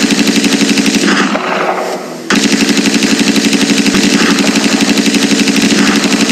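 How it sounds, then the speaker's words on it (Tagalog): Rapid rhythmic bursts of gunfire rattle loudly and continuously, with a short dip and a muffled lull in the middle before the rapid pounding resumes at full strength. "Ang mga sundalo ay mapuputok ng kanyon."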